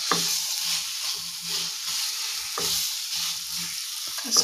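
Raw banana pieces fry with spices in a hot pan, a steady close hiss of oil broken by rhythmic scraping stirs, with no voices.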